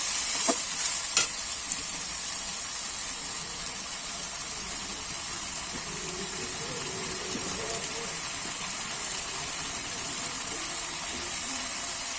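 Ground spice paste sizzles steadily in a pan, with a constant bright hiss and a few soft stirring scrapes near the start.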